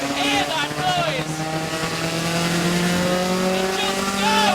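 A vintage Datsun BRE 510 race car pulls hard in third gear, its engine note climbing steadily and loudly from inside the car, with a voice breaking in briefly at the start and end.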